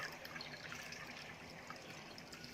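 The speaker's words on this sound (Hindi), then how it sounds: "अब चीनी वाले पानी को हम दूध में मिक्स करेंगे छान कर" Sugar syrup poured through a strainer into milk, a soft continuous trickle of liquid, faint and steady throughout with no voices.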